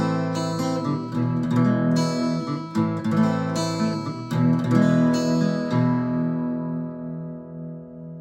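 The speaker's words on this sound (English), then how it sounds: "The second half of the intro would sound like this." Guitar picks the second half of the House of the Rising Sun intro in standard tuning, with arpeggiated chords plucked steadily and closely, the final chord left ringing and fading out.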